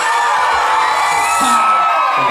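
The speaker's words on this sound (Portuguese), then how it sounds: "Dá um grito pra mim, a torcida do Palmeiras" Palmeiras supporters at a community samba rap duel shout and cheer together, a loud, dense roar of whoops and yells filling the whole short burst.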